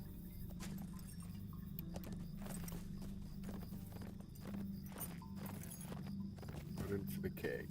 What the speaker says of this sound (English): I'm going to get on my fast horse.